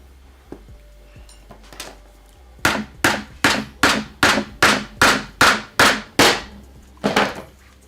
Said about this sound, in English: Sorry about the hammer.